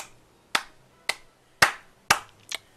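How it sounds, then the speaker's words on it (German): Five sharp, separate claps ring out at slow, roughly even intervals against a quiet background, the last one doubled. "Kurzen Applaus an mich selber."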